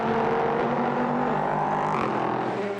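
Race cars scream around the Monza circuit near the Parabolica, a steady, loud engine whine that shifts pitch as the cars pass and overlap, with no other sounds above the noise.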